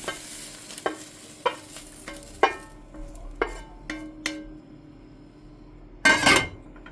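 Coriander dry-roasting in a pan in a Goan home kitchen, heard as a series of sharp spoon-on-pan scrapes and clinks at irregular intervals over a faint sizzle, ending in a louder burst of stirring.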